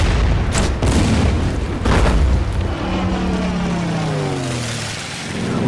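Artillery fire in the strategy video game Order of Battle: Winter War, set on the Karelian Isthmus, lands as heavy booming blasts followed by a long, loud rumbling roar that slowly fades away.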